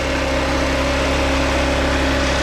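A VIP scooter engine idling high, a loud, steady mechanical drone with an even buzzing pulse and no pauses.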